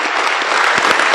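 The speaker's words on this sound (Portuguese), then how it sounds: "Palmas para Jesus." Church congregation applauding during a historic anniversary service, a steady wash of many hands clapping at close range with no pauses across the short burst.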